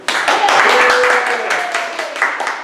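A small audience claps to welcome a presenter, a short burst of close, dense applause that tapers off.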